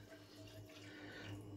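Milk poured into a warmed saucepan while making cauliflower cheese, a steady, quiet liquid trickle and splash running throughout under a low background hum, with no talking.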